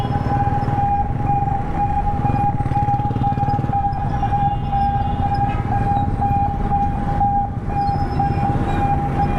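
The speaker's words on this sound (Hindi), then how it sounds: "एम्बुलेंस जो है इसको रास्ता नहीं मिल रहा है," A steady ambulance siren wails continuously while stuck in dense street traffic in Karachi's Korangi industrial area, over traffic rumble and engine noise, heard from nearby.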